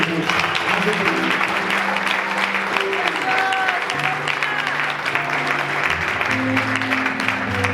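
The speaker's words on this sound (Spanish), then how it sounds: "Denle un fuerte aplauso al Señor." A church congregation applauds steadily for several seconds, a dense wash of clapping hands filling the room while a voice and sustained musical tones carry on beneath it.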